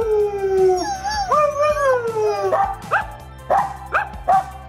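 A dog howls with long, wavering, rising and falling tones, then breaks into a series of short, sharp barks and yips, close and loud.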